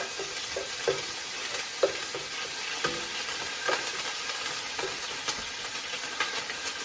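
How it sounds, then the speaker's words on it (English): Ginger garlic paste sizzling in a hot pan while being mixed, a continuous hissing fry broken by frequent light scraping and tapping of a utensil, close and fairly loud with no voices. "I also have ginger garlic paste that I am going to place in here. And then kind of just mix it really well"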